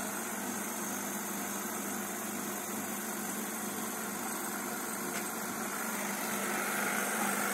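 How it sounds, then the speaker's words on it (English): An HVACR refrigerant recovery unit runs with a steady, even mechanical drone and vibration that holds constant without pauses, and no one talks over it. "You can usually tell when you listen to the actual recovery unit."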